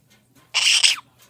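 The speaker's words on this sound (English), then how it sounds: "Cranky, cranky, cranky bird." Pet bird giving a single harsh, cranky squawk lasting about half a second, loud and close in a quiet room.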